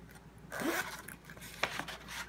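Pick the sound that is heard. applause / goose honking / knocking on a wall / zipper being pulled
zipper being pulled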